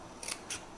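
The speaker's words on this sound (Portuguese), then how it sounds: "vou cortar aqui esse pedacinho" Scissors snipping a small piece of fabric for a children's pouch, two quick crisp cuts close by in an otherwise quiet room.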